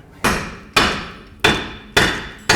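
Hammer blows on a ball joint of a 1984–2001 Jeep Cherokee XJ, five loud, sharp metallic strikes at a steady, roughly half-second rhythm, each ringing briefly before the next.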